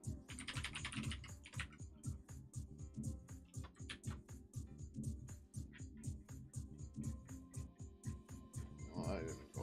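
Rapid, irregular clacking of a computer keyboard fills the stretch, bursts of close keystrokes with short pauses, and a voice speaks intermittently over the typing.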